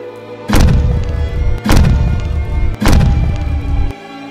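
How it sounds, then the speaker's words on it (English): Three heavy, booming blasts about a second apart from a demonstration detonation of a landmine found by a roadside, each a sharp deep thud followed by a rumbling decay, loud and close with no voices. "the demonstration explosion of a mine discovered"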